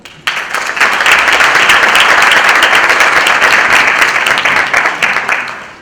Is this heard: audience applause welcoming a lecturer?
yes